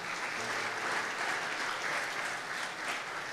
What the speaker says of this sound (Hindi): जोरदार तालियां उनके लिए बजाइए